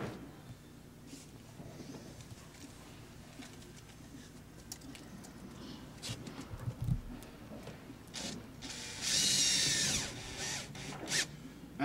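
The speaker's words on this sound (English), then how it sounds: "it's simply a matter of inserting screws in all the proper locations to secure the flange to the sidewall" A power drill drives screws to fasten a flange to a sidewall, with short intermittent whirring bursts and a louder, longer high-pitched run of the driver toward the end, close by.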